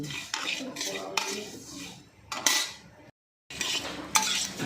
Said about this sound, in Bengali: জিরেগুলো একটু শুকনো করে নেড়ে নিচ্ছি